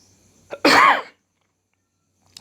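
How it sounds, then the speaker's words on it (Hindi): A single sharp, explosive cough bursts out close to the mic, followed by silence and a faint click near the end. "पता नहीं क्यों बोलने से इतना खांसी क्यों आ जाता है।"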